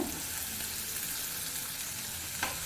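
Finely chopped onions sauté in hot oil with fennel seeds for an egg masala gravy, giving a steady close sizzle and hiss with a faint stir-scrape near the end.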